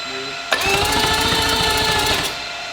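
A billet four-rotor rotary engine fires up abruptly and runs with a loud, buzzing, fast-pulsing roar for nearly two seconds before cutting back to a low background hum.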